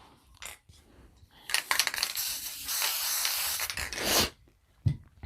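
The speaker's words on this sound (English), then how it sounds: "I'm just going to spray a little bit on the back of the felt." Bursts of basting spray adhesive hiss from a can onto the back of felt, one long steady spray and a few shorter puffs, with quiet clicks and handling noises in between.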